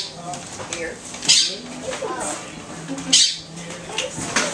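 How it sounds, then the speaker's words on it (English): A pet bird squawks at a birthday party, with sharp bright calls at about 1.3 and 3.2 seconds amid people chatting nearby and ongoing background voices. "Oh, he gonna talk to the bird."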